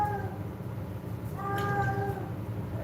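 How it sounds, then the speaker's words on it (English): Hungry cats meow for food outdoors, two drawn-out, wavering meows at moderate distance over a steady low background hum. "Oh no, all the cats are here."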